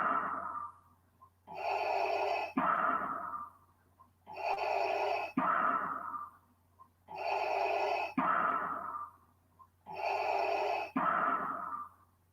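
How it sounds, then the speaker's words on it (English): Darth Vader breathing effect: slow, mechanical respirator inhales and exhales in a steady alternating rhythm, four full cycles, close and clear with short silences between. "Yes, that's Darth Vader breathing."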